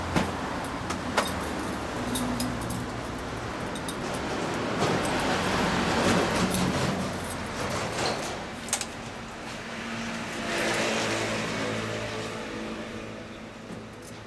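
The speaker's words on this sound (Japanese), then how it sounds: "エンジンかけてもらえる？" A Honda CB400 Super Four Hyper VTEC Revo (NC42) motorcycle idles with a steady low engine hum and faint rhythmic putter, swelling slightly at moments, with small clicks and jangles nearby and no talk.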